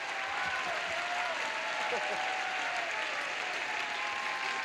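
Studio audience at the 1980 Tic Tac Dough game show applauding steadily, a dense even wash of clapping that stays at one level throughout with a faint voice mixed in.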